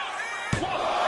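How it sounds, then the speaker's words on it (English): Crowd in a WWE wrestling video game roars steadily as a sharp slam-like impact lands in the arena, the dense cheering noise continuing loud throughout. "this bloodthirsty crowd is loving it"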